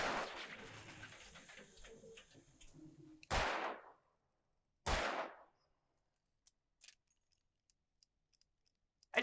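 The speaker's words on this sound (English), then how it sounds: "Will it explode if I keep shooting it?" Two loud, sharp gunshots from the Alan Wake video game, each with a short decaying tail, follow a stretch of muffled game ambience and are trailed by a scatter of faint clicks and ticks.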